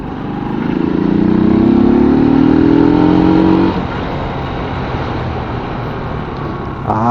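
A Euro Rock R125 V2 motorcycle engine revs up with a rising whine, then falls back to a lower steady running drone, loud and close throughout.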